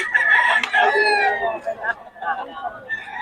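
A rooster crows loudly nearby with chickens clucking around it at a poultry market in Bocaue, while people talk over the birds.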